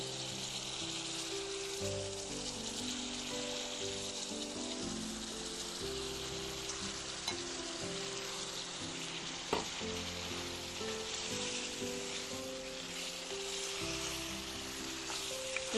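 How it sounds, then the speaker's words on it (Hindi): Masala and mutton pieces fry in a pan with a steady, dense sizzle, joined by occasional stirring scrapes and small pops, close and fairly loud with no voices. "अब इस सबको हमें बहुत अच्छी तरह से भूनना है।"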